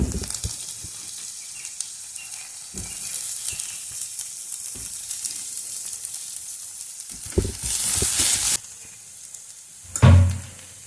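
Chopped potato sizzles steadily in a hot pan of oil with curry leaves for puffed-rice upma, a continuous close frying hiss broken by a few stirring scrapes and a knock near the end.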